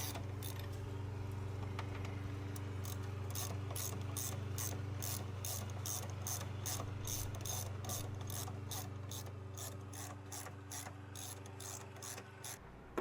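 A hand ratchet clicks rapidly and steadily while snugging the frame-rail bolts of an aftermarket engine mount on an MK7 Volkswagen GTI, close and fairly quiet over a low background hum, with no talking.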